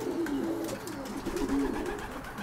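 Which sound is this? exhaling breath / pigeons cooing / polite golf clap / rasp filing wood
pigeons cooing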